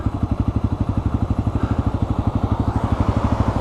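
Honda Grom motorcycle engine runs with a fast, even thumping pulse, revving up before a wheelie, close and steady throughout with no talk.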